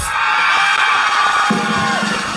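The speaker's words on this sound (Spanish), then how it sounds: "¡Aplausos para la de Managua!" A crowd yells, whoops and cheers loudly and continuously at an outdoor contest in Tipitapa, Nicaragua, backing the contestant from Managua, a dense roar of voices with no distinct claps standing out.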